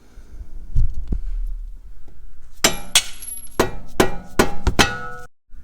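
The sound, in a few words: rubber mallet hitting a car strut part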